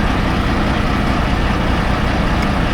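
A Kenworth W900 with a 12.7 Detroit engine and a 10-speed runs steadily, a loud, close, continuous low diesel rumble with no breaks and no talk over it.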